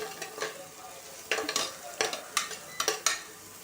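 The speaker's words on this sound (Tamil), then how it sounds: "ஆனியன் சேர்த்துட்டு அதை நல்லா வதக்கி விட்டுடுங்க" Oil sizzles as onions fry in a pan, with bursts of stirring and scraping every half second or so, close and moderately loud, no voices.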